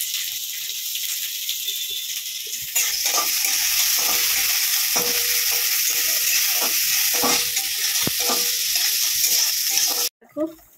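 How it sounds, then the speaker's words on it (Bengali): Onions fry in hot oil with cumin for an egg curry, giving a steady loud sizzle with scattered stirring scrapes and clicks that cuts off abruptly near the end. "দেখো আমাদের পেঁয়াজটা ভাজা হয়ে গেছে"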